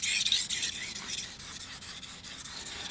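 A knife being sharpened on a King whetstone: steady, continuous rasping strokes of steel scraping across the wet stone, close and even in rhythm.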